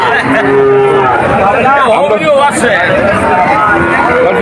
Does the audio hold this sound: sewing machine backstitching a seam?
no